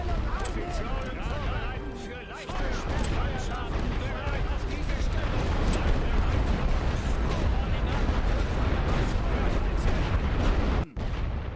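Heavy, continuous artillery fire in a WWI Western Front strategy game, a dense rumbling barrage of booms and bursts that stays loud throughout, with a brief dip near the start and a sharp cut near the end.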